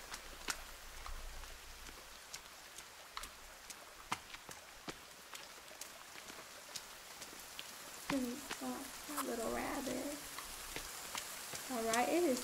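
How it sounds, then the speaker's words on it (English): Rain patters steadily in The Forest video game as a soft, faint hiss broken by scattered drop ticks, with a person talking over it in the later part. "Freaking raining."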